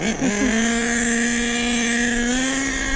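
A nitro RC car engine buzzes at a high, steady pitch, loud and close, with a brief dip right at the start before it holds a strained, sustained drone.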